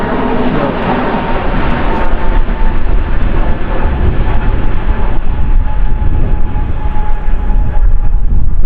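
An Airbus A320neo-family jet roars loudly at Manchester Airport, a broad, continuous engine rumble that holds steady and close throughout with no voices.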